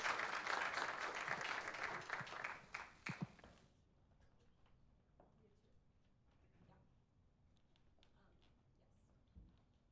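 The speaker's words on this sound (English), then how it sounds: "Big round of applause." An audience claps for a startup pitch at a decision-day event, applause loud for the first few seconds and then cutting off abruptly, leaving a quiet room with faint scattered sounds.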